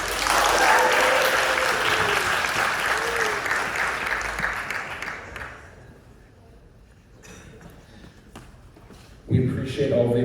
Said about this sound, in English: We appreciate all the applause.